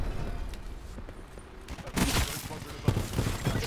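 Gunfire in Call of Duty, scattered shots at first, then a louder burst of rapid fire near the end, mixed with game noise and a player's voice.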